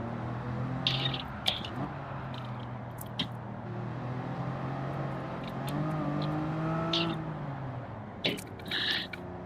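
Supercharged race car engine in Gran Turismo 7 drones steadily at close range, its pitch sliding up and down through gear changes, with a few short hissy clicks over the top.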